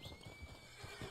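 A horse in the video game Red Dead Online gives a short, faint whinny, heard briefly and alone with no talking.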